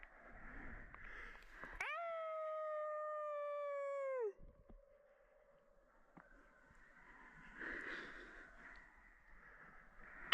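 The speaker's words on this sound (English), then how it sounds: "I can confirm that is what coyotes sound like." A single coyote gives a long, clear howl of about two and a half seconds, rising then holding steady before dropping off, heard at night. Faint yips and calls follow at a distance, and there is no talk.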